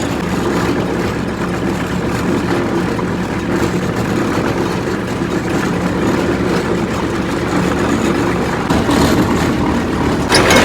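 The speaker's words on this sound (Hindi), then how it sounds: "ये ट्रैक्टर इस मशीन को चला रहा है" A tractor engine runs steadily while powering a machine during house roof construction, a loud continuous low rumble with no talk over it.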